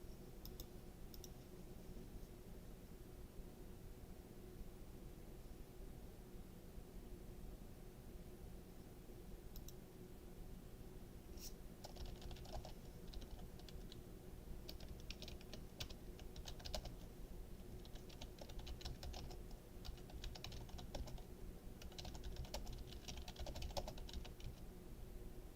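A computer keyboard is typed on in quiet, uneven bursts of clicks, faint against a steady low electrical hum.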